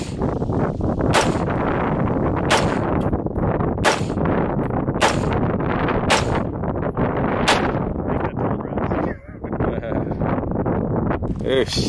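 An AR-15 rifle firing .223 full metal jacket rounds into a backpack, with a series of sharp, loud shots spaced a second or so apart over constant wind noise and voices talking.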